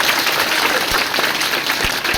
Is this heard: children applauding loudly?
yes